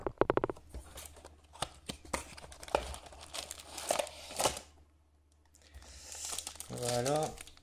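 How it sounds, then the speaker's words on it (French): Booster packs crinkle and rustle as they are pulled from a card booster box, in bursts of plastic-wrapper crackling and shuffling, with a voice speaking in between. "on va retirer les boosters de la box"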